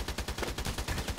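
Rapid automatic gunfire in the Contract Wars shooter, a steady string of close, loud shots at a quick even rhythm with no other sound.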